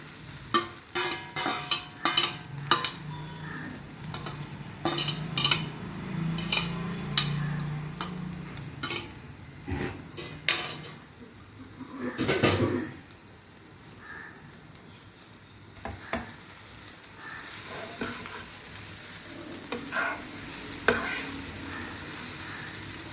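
Good Dot vegan egg noodles are stir-fried in a pan with egg, giving a constant sizzle broken by repeated sharp clacks and scrapes of the utensil as it stirs and tosses, with no talking.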